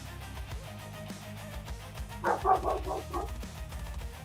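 A dog in the yard outside a workshop window barks in a short burst of about five rapid yaps near the middle, fairly close and clear over a low background hum.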